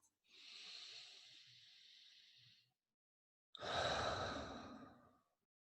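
A person takes a slow, deep breath: a long airy inhale, a brief pause of silence, then a fuller, louder sighing exhale, close and alone.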